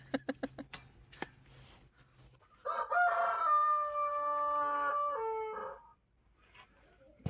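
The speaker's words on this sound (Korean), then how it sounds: "오늘도 어김없이 울어제끼는구나 우리 닭들" Farm roosters near a plastic greenhouse give one long, loud, close crow with a wavering drawn-out tail, preceded by a string of short clucks and thumps, then quiet.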